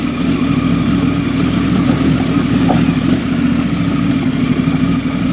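A vehicle's engine drones steadily in first gear as it descends a mountain highway in Zanskar, engine braking with a constant mid-pitched hum and no speech.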